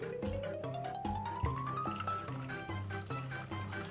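Boiled kettle water pours steadily into a bowl, the pitch rising as it fills, with faint clinks along the way.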